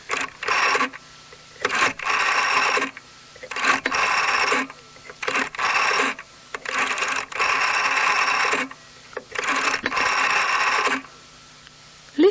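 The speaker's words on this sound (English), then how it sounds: "let me dial Ubang's telephone number" A telephone number being dialed on a phone, heard as a run of clear electronic tone bursts separated by short pauses, close and fairly loud with no talking.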